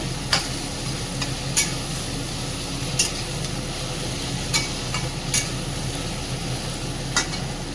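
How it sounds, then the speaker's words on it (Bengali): Cabbage with tomato, spices and lentil powder stirred in a hot pan: a steady close sizzle with scattered sharp scrapes and clicks of the spoon against the metal, no talking. "এটাকে একটু নেড়ে চেড়ে"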